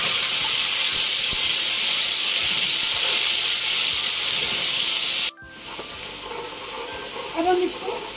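A tomato, ginger and green chilli paste hitting hot desi ghee in a frying pan, a loud continuous hiss that cuts off abruptly partway, followed by a quieter bubbling sizzle with faint stirring.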